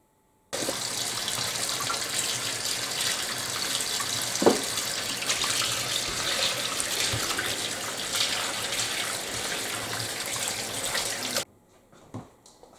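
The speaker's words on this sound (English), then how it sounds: "You're going to fill it up with water, and you're going to place that pot over low medium heat." Tap water runs steadily into a cooking pot in a home kitchen for about eleven seconds as a continuous broadband rush with a single clunk midway, then cuts off abruptly, leaving a few faint drips and clatters.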